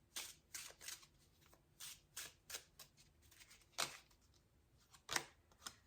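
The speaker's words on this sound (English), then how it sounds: "So let's get a few big picture oracle cards." Oracle cards shuffled and drawn by hand: a quiet series of quick papery riffles and slides in irregular bursts, with a couple of sharper card snaps near the end, close and with no talk.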